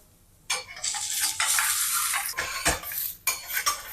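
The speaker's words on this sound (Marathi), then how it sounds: "हे खडे मसाले आहेत आपले हे टाकून घेते असं भाजून घेते मस्त मसाले" Whole spices for chicken masala rattle and scrape around a pan as they are dry-roasted and stirred, with clinking metal utensil sounds and short pauses between strokes.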